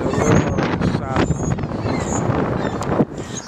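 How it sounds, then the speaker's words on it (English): Strong gusts buffet the microphone outdoors, producing a continuous roaring rumble with uneven surges and flutters that swamp the other sounds. "Sorry about the wind."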